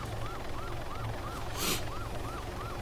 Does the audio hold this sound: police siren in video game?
yes